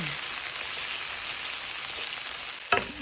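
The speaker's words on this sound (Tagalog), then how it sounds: "So, gisa-gisa lang hanggang sa naluto na yung mga sahog." Corned beef and broccoli sautéing in a pan, a dense close hiss of frying that holds steady, then a couple of brief utensil clanks near the end, with no talking.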